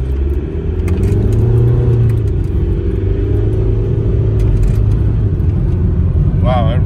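A Volkswagen TDI diesel car with newly installed injector nozzles accelerates down a road, a loud, steady low engine rumble and drone heard from inside the cabin, with a person's voice briefly audible over it.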